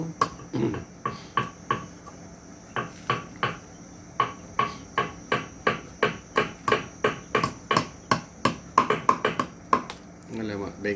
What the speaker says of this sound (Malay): Kita paku.